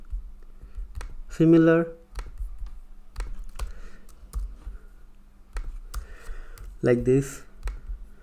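Sparse clicks of a computer keyboard as a message is typed, quiet and close, scattered irregularly throughout with someone speaking briefly twice over them.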